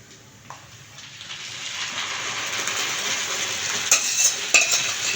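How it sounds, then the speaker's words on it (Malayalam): Koottu curry is stirred in a frying pan, the spoon scraping and the mix sizzling, gradually growing louder, with a couple of sharper clanks near the end and no speech. "ഇത് നന്നായി ഇളക്കിയിരിക്കുക"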